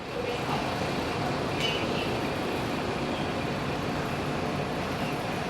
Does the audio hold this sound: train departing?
yes